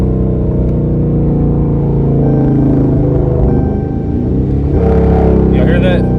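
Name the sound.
Dodge Charger RT engine downshifting with pedal control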